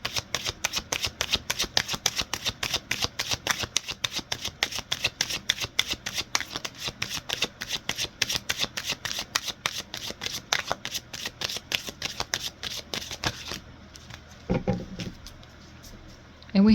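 A tarot card deck is shuffled in a fast, steady riffle of crisp card slaps that runs on for many seconds and then stops, followed by a few soft handling noises.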